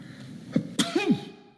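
One person sneezes several times in quick succession, sharp close bursts with brief gaps, ending with a final abrupt sneeze.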